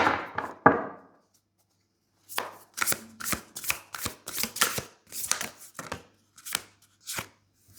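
Tarot cards are shuffled and tapped in a run of sharp, rhythmic slaps and riffles after a short pause, close and fairly quiet.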